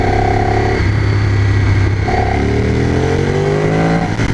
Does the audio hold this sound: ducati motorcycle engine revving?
yes